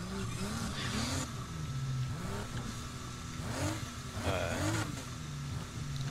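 An Alfa Romeo Giulia in a racing video game accelerates with nitrous, its engine revving up through several gear shifts, each rising whine dropping off before climbing again, steady and moderately loud.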